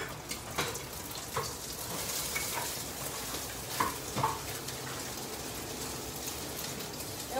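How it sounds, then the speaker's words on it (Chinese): Prawns pan-frying in a hot pan until crispy on both sides, a steady faint sizzle with scattered soft pops and crackles throughout. "要煎到两边脆脆啊"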